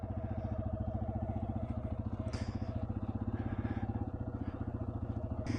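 Motorcycle engine running steadily while riding at night through farm countryside, a close, throbbing low rumble with even rhythmic pulses and a brief brighter clatter midway.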